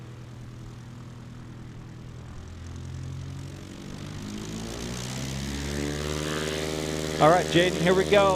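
A STOL propeller airplane at a National STOL qualifying event in Central Florida revs for takeoff, its engine drone climbing steadily in pitch and power, with a voice speaking briefly over it near the end.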